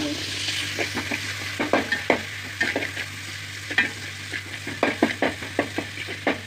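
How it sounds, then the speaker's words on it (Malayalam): Ginger sautéing in a hot pan sizzles steadily while a spoon stirs and scrapes in quick repeated strokes, close and clear with no talking. "ഇഞ്ചി ഇട്ടു വാട്ടി"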